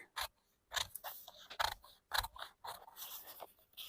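Scissors snip through blouse fabric in a handful of separate crisp cuts, each a short rasping crunch with brief pauses between, close and clear with no talking.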